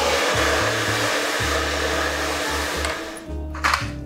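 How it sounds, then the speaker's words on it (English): A hair dryer blowing while styling hair, a steady loud whooshing roar with a low motor hum that drops out briefly a few times as it is moved or switched, no speech. "you can just do it with the dryer just to get your pieces dry"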